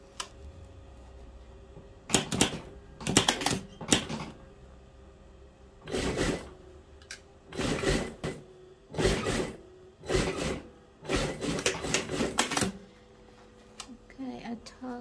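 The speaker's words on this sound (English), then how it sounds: "I want to overlock this one, and then I want to do one more stitching here" Overlock machine stitching the cuff of a polar fleece dressing gown, repeated loud whirring bursts of a few seconds each separated by short pauses, close by, with quiet talking near the end.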